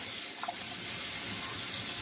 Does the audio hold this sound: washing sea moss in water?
yes